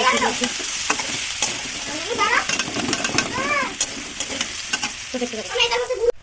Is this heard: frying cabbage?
yes